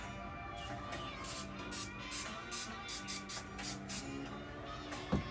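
Repeated short hissing bursts of cooking oil spray coating salmon for grilling, in an uneven rhythm, close by, over a steady background hum.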